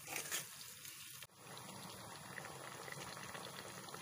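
A pot of Bengali gathi kochu and potato curry comes to a boil, bubbling and popping steadily with a dense, close, low gurgle after a short break in the sound.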